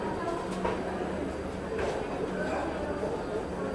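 The Delhi to Lucknow double decker train 12584 runs with a steady low rumble and faint rhythmic clacking of wheels on the rails, heard from on board throughout.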